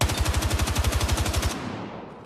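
Fully automatic gunfire in Battlefield 6, fired without recoil control: a loud, fast, evenly spaced burst of about twenty shots lasting a second and a half, then a fading echoing tail.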